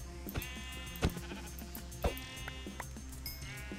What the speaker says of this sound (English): there's plenty of sheep over here